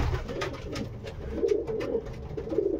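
Pigeons coo repeatedly inside a pigeon loft, soft overlapping throaty calls from several birds close by, with light rustling and scuffing around them.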